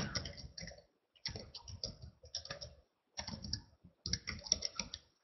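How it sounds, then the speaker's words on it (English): Typing on a computer keyboard: bursts of rapid, close key clicks in uneven clusters separated by short pauses, with no talking. "Pardon me while I type, I'm not the fastest typer."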